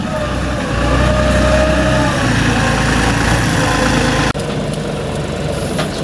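A sugarcane planting machine's engine runs steadily in a field, a loud continuous low rumble with a brief dip partway through; a voice talks faintly underneath.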